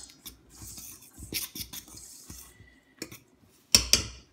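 Dried cherries and sliced almonds are mixed into scone dough in a bowl with a utensil: sparse scrapes, soft taps and a couple of sharp clinks, close by, with quiet gaps between strokes.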